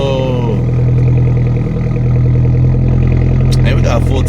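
A Hyundai Genesis engine on a cold start, a loud steady idle with a strong low hum throughout, a brief rising whine early on, and short chime-like sounds near the end.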